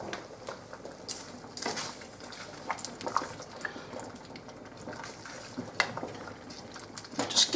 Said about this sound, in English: Just give it a little bit of a stir just so it doesn't stick and clump together.